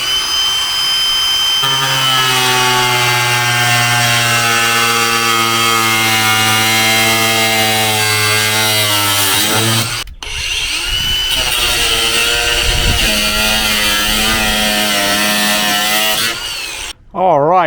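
A power tool cutting a car's front bumper whines loudly and continuously, its pitch sliding as it bites into the plastic, with a short break partway through before it resumes.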